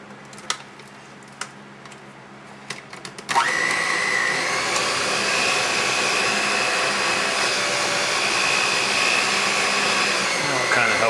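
Electric mixer beating a batch of fudge made with New Zealand Marmite and American cheese food, a loud steady motor whir that starts abruptly after a few quiet seconds of faint clicks and continues without pause.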